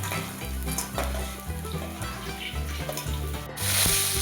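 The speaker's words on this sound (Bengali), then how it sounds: "আবারও কিছু মাছ ভেজে নিচ্ছে" Catla fish pieces frying in hot oil, a loud continuous sizzle with scraping and stirring sounds from a spatula, and a sharper burst of spitting near the end.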